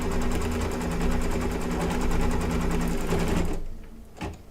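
An embroidery machine stitches applique fabric with a rapid, steady mechanical whirring and needle chatter for several seconds, then winds down and stops, followed by a faint click.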